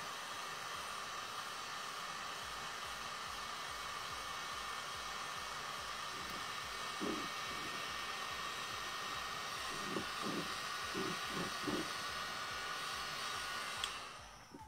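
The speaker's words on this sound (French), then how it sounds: "Et truc tout con, décapeur thermique. On attend un peu que ça chauffe." A heat gun blows with a steady, loud whooshing hum while warming a bottle's capsule on a homemade fir liqueur, running unbroken before cutting off near the end.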